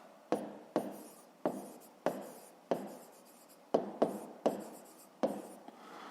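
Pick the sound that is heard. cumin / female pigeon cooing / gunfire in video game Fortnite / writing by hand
writing by hand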